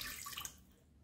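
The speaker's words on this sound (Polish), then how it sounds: "Do garnka wlewamy 150 g wody" Water pours into a pot as choux pastry is started, a bright splashing trickle that is loud at first, then fades quickly into near quiet within a second, with no voices.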